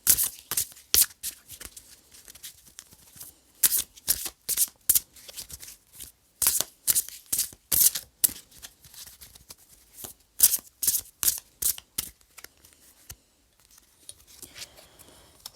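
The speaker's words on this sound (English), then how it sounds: "So I'm just going to shuffle." Oracle cards are shuffled repeatedly in close, sharp bursts of riffling and slapping, a steady irregular rhythm of crisp card sounds with no voices, trailing off near the end.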